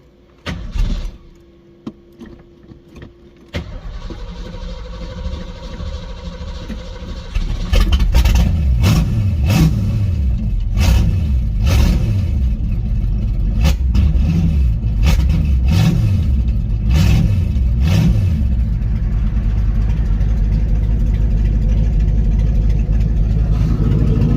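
A Ford Mustang with a swapped 5.0 engine fires up on a cold day: a quiet catch and rough idle, then a loud, steady run with repeated rising and falling revs, close by and with no talking.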